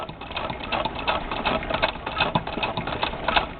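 A 1916 Singer 66 sewing machine driven by hand crank while stitching hoop embroidery, giving a steady, fast mechanical chatter of needle strokes, close and continuous with no talk.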